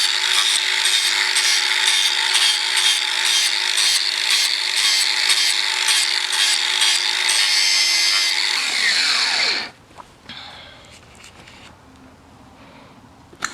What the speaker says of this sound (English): we're going to grind them down to where this is tapered